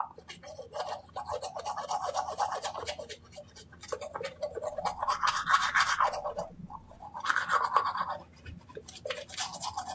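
Teeth being brushed with a toothbrush, close scratchy bursts of scrubbing in uneven strokes separated by short pauses.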